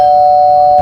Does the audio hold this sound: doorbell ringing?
yes